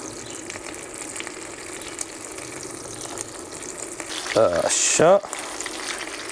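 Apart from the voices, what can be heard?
chicken livers frying in a pan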